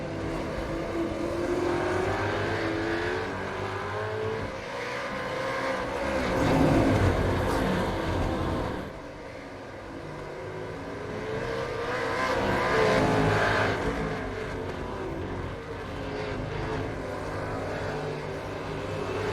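Race cars in the iRacing simulation of a Super2 Series round at Oran Park Raceway GP, a steady engine drone that swells twice as cars accelerate and pass, with no talk.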